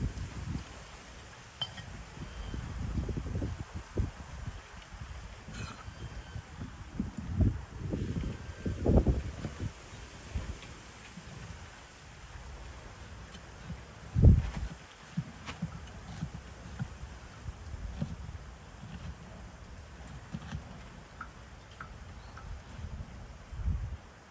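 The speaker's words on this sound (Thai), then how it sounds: "วันนี้ลมค่อนข้างแรงนะครับ" Strong wind blows outdoors by rice fields, a steady roar with loud gusts buffeting the microphone, plus occasional faint clinks and rustling. No one speaks.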